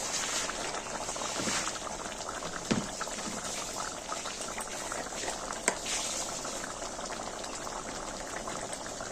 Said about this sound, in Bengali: গ্রেভিটা ফুটতে শুরু করে দিয়েছে।